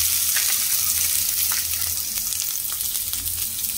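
Chopped garlic fries in hot oil for a cabbage Manchurian, giving a loud, dense, continuous sizzle with faint crackles and pops, heard alone without talk.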